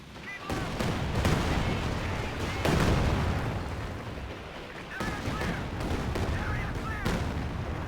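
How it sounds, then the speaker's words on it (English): An artillery barrage in Company of Heroes 2 rumbles as a dense, continuous series of booms and explosions, with heavier surges of impacts rolling through at a moderate distance. "And there goes the barrage."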